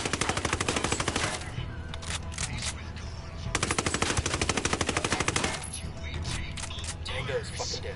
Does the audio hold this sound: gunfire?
yes